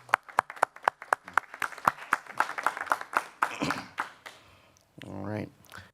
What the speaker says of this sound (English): Let's clap for Karina